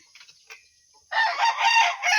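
Near a house, a chicken gives a few soft clucks, then a rooster launches into a loud, close crow lasting about a second, heard alone without talk.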